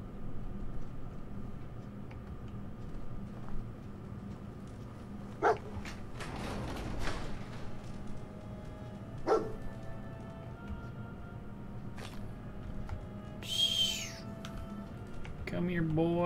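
In the video game Fallout 4, the dog companion Dogmeat gives a few sharp, scattered barks over a low, droning game ambience, with a higher yelp near the end.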